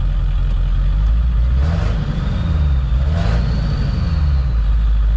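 A diesel truck engine with a drained high-pressure oil pump system idles loud and close, a deep steady rumble with a faint whine riding above it and slight swells in pitch.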